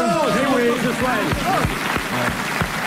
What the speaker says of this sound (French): nous allons applaudir Madame le Prieur d'Agon-Coutainville